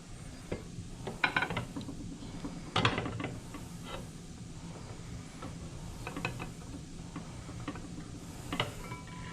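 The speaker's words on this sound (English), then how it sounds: "I just realized I need my clamp over here, so I'm going to move this clamp." A metal laboratory clamp is shifted and tightened on a chemistry bench, producing scattered clicks, ratcheting ticks and small knocks at close range, with one sharper clank near the start.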